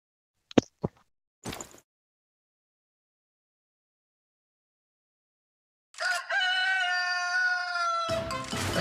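Chickens in the Chicken Run mode of the shooter game Bullet Angel: a few sharp clicks, a long silence, then a loud, drawn-out squawking crow.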